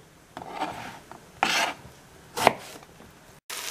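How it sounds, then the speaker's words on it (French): Knife cutting eggplant into small cubes on a board: a few separate rasping chops at uneven intervals, close and moderately loud, with quiet gaps between them. "je détaille en petits cubes mes aubergines"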